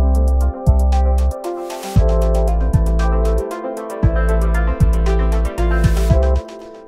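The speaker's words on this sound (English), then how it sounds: "This is the mid-range. And it's just a little arpeggio." A little mid-range synth arpeggio from a tweaked Massive patch with delay and reverb, written for ambient game music, steps through repeated bright notes over a sustained low tone, loud and alone.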